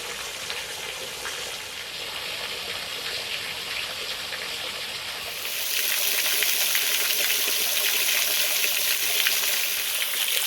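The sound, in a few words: small creek waterfall flowing on Pickle Springs trail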